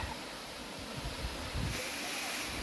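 A waterfall beside a cliff makes a steady, broad rushing wash, continuous and moderately faint, with some gusty low rumble that could be wind on the microphone.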